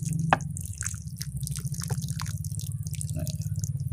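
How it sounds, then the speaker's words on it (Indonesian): Water from a bottle is poured onto a soil-filled polybag before planting a pine bonsai cutting, giving a steady close dripping and pattering that runs continuously throughout with no talking. "Sebelum kita tanam, polybag kita siram dulu dengan menggunakan air yang sudah kita siapkan."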